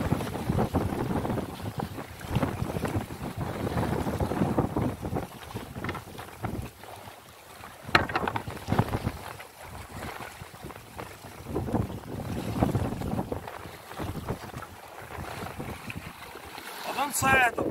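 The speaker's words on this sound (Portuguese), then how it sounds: "Muito vento mesmo." Strong wind at sea buffets the microphone aboard a fishing boat, roaring continuously and loudly with gusty surges while people talk beneath it.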